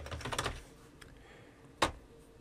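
Computer keyboard typing, a short cluster of quick key clicks followed after a pause by one louder keystroke, close and alone in a quiet room.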